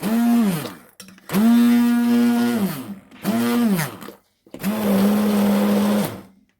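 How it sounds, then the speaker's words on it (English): An electric blender whirs in four bursts of a few seconds each, loud and close, with brief pauses between pulses. "I'm going to take my little blender and blend it up"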